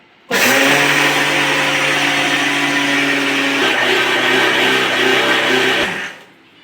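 Mixer grinder grinding raw rice, a loud steady motor whine that starts abruptly, runs for about six seconds with a slight pitch shift midway, then winds down, heard close with no speech.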